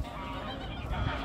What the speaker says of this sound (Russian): Слушаю гусей, как они разговаривают между собой.